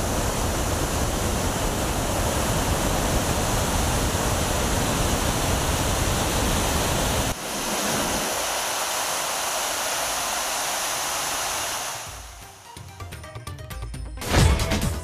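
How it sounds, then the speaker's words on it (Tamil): Water released through eleven sluice gates of the Aliyar dam near Pollachi gushes in a loud, continuous roar that dips slightly partway through and tapers off near the end. "அணையின் பாதுகாப்பு கருதி 11 மதகுகள் வழியாக 1347 கன அடி தண்ணீர் திறப்பு."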